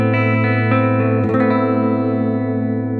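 An electric guitar played on its front pickup through a Positive Grid Spark 40 amp rings out a clean, thick sustained chord, with a few light picked notes and a brief scrape partway through, sounding alone.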